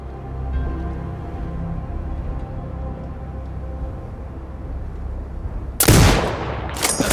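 A single sharp sniper rifle shot rings out near the end in the Sniper Ghost Warrior Contracts 2 training mode, loud and sudden over a low ambient rumble, followed by a brief echoing tail.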